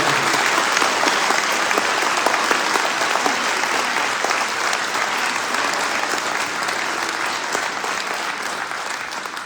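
Loud, sustained applause from an audience at a mayor's New Year address, honouring the police, with dense clapping filling the whole stretch and tapering slightly toward the end.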